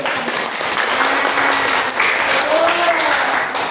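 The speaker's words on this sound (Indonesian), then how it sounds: "Berikan tepuk tangan dulu" A classroom bursts into loud, sustained applause: a dense, continuous wash of many hands clapping together, with voices faintly audible beneath.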